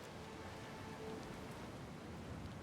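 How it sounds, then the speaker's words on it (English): Rain falling at sea in the video game Pillars of Eternity 2, a faint, even wash of hissing rainfall with no distinct drops or voices. "While the rain continues to indigently pelt you with water"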